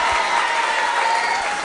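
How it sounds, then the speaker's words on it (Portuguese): Protesters at a public hearing on a municipal bus fare increase in Diadema break into steady, dense applause that fills the room, with clapping from a close crowd continuing throughout the short burst. "Uma salva de palmas para vocês."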